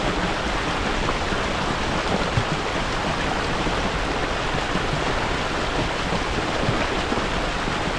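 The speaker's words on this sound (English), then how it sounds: "Little stream." A small mountain stream in Sequoia National Park flows steadily, a close, continuous rushing and babbling of water with no voices, even in level from start to end.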